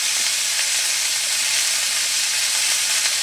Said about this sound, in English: I'm going to let that water sizzle out of there.